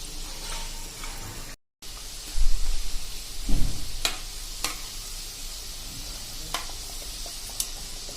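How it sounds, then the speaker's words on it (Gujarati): Semolina dumplings (rava muthiya) frying in hot oil give a steady soft sizzle with light stirring clatter, a couple of louder bursts near the middle and occasional sharp clicks, with no talk. "આ રીતે જ આપણે તળવાના છે"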